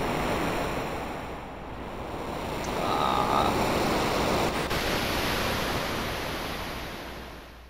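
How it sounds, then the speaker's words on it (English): A steady, roaring wash of surging water, like a huge tidal wave crashing in, in the video game Chrono Trigger. It swells gently in the middle and stays constant throughout, with no voices. "A tidal wave"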